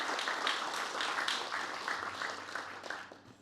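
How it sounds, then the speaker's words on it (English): An audience at a Battle of Lone Pine commemoration applauds Sir Peter, a dense sustained patter of many hands clapping at moderate distance that thins and fades toward the end. "would give Sir Peter a round of applause"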